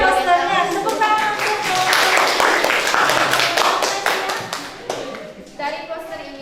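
A classroom audience claps together in a burst of dense, close hand claps that thin out into scattered claps toward the end.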